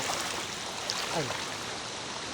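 A river flows in a broad, steady rush of water, continuous and moderately loud, with a voice speaking briefly over it.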